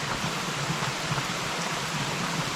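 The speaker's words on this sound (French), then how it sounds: "C'est vraiment une belle petite cascade." A small waterfall on a misty, rainy mountain hiking route rushes in a steady, even wash of noise with no pauses, moderately loud and without voices.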